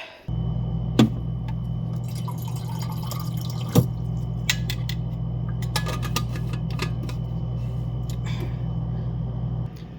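Water is poured into a home water dispenser as it is refilled, with scattered drips and small clicks over a steady low mechanical hum.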